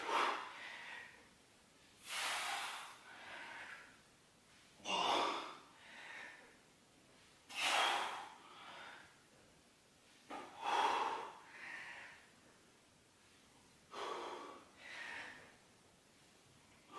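Heavy, rhythmic breathing during a no-equipment HIIT workout, with loud exhaled bursts about every two to three seconds, each sharp breath close and alone, followed by a softer second puff.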